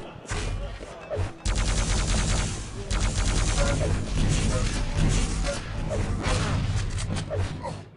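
Quake Live lightning gun and railgun fire rattle in quick, dense bursts of crackling zaps and sharp shots during a tournament match, loud and continuous with brief pauses and faint voices underneath.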